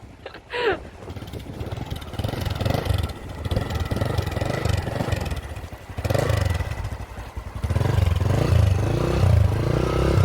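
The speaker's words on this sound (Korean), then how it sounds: "처음 타는 바이크도 되게 잘 타시는 세진이님." A Honda MSX125 motorcycle is ridden and its mid-pitched engine rises and drops as gears shift, revving up again toward the end. It sounds close and steady, with some voices briefly underneath.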